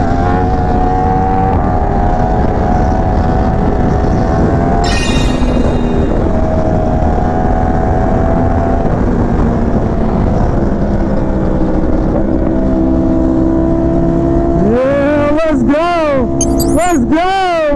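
Group of sport motorcycles, including a Yamaha R1, BMW S1000RR, Honda CBR1000RRR, Ducati V4S and Kawasaki ZX6R, accelerating away in Miami, engine tones climbing steadily with sharp rising revs near the end, loud and close under wind roar.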